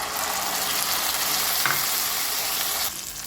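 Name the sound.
tomato paste frying with ginger garlic paste in pan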